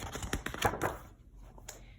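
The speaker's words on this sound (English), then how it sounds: "He's typing something." Keys of a typewriter tapped in a quick, uneven run of sharp clicks up close, trailing off into a few scattered strikes at the end.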